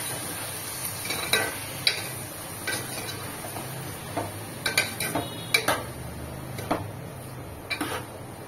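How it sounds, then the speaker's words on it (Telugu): Chopped tomatoes being stirred into cauliflower egg curry in a pan, with irregular clinks and scrapes of a spoon against the metal over a soft background sizzle, no talking. "ఈ టమాటాలు కూడా వేసిన తర్వాత మొత్తం కలుపుకోవాలి"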